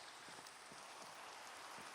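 Steady, faint rain falls at sunset in a video game, an even hiss with soft scattered drops and no voices.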